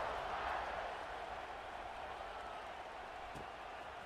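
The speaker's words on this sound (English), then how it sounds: "this crowd is buzzing after that last score" Stadium crowd in a college football video game, a faint, steady wash of cheering and applause filling the background without distinct peaks.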